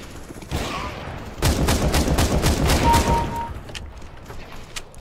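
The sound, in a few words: gunfire in the video game Counter-Strike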